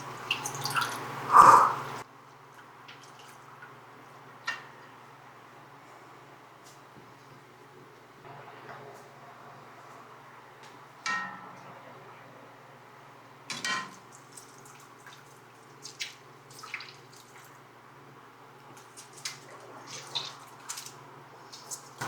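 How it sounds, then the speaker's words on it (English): Whey drips and splashes in irregular, faint bursts as hot cheese curd is stretched, pulled and squeezed, close by over a quiet background, with a louder splash near the start and no talking. "We're squeezing out all the whey as we're pulling and stretching."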